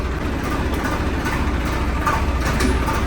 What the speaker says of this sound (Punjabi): ਟਰੈਕਟਰ ਹੋ ਗਿਆ ਸਟਾਰਟ